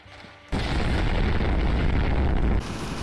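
Bombs exploding in the video game Zeppelin Wars, a sudden loud roaring blast that holds as a dense, rumbling wall of explosion noise for about two seconds before dropping back to a lower rumble.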